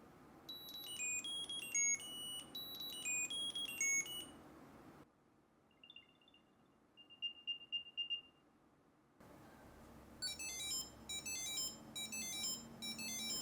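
Apple Find My tracker alert beeps from a wallet with built-in tracking, comparing three sound options: quick melodic chirping patterns, then a quieter stretch of steady tones, then more chirping, all fairly faint.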